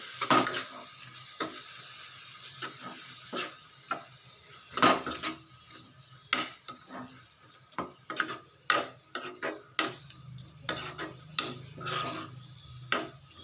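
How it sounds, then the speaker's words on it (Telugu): Jaggery syrup is stirred into a carrot and coconut laddu mixture in a pan, giving repeated close spoon scrapes and clinks against metal over a faint, intermittent sizzle. "ఇప్పుడు మనం పట్టు పెట్టుకున్న బెల్లం పాకాన్ని వేసేసుకొని బాగా కలిపేసుకోవాలి"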